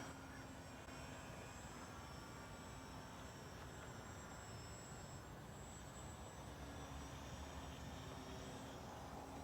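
A small engine of a Mini Apprentice S radio-controlled model airplane in flight drones steadily at a distance, a continuous faint buzzing hum that barely changes over several seconds.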